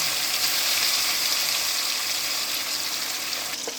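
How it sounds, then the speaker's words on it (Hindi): Marinated fish fries in hot oil for an Indian fish korma, a dense steady sizzle and crackle close by, holding evenly throughout with no voices. "अब इसको फ्राई करने के लिए डालेंगे।"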